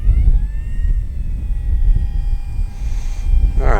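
An FMS Kingfisher RC plane's motor drones and rises in pitch as it takes off, heard fairly close against heavy, gusting wind noise, with a brief higher whine near the end.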